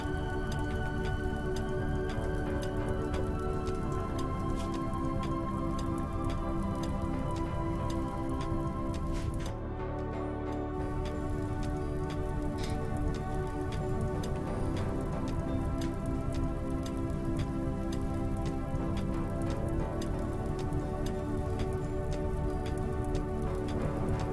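Steady dense rain patter during a thunderstorm in the RimWorld video game, continuous ticking drops under a constant music bed, with no talk.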